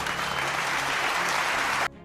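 Audience applause at Vivekananda's 1893 speech to the Parliament of the World's Religions in Chicago, a loud, dense, continuous clapping from a large crowd that cuts off abruptly near the end.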